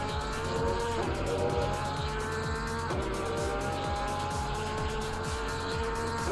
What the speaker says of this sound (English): God damn, that Porsche sounds so good, doesn't it?